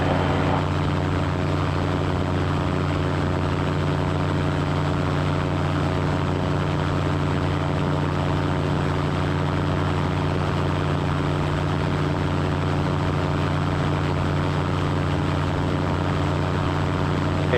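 A light airplane's engine and propeller drone steadily in flight, a loud, unbroken harmonic hum that holds at the same level from start to finish with no voices over it.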